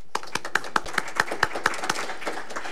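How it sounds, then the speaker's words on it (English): A small group clapping at a council meeting, about a dozen crisp, evenly spaced claps close by that soften and scatter toward the end, with no talking over them. "please give yourselves a round of applause for being here"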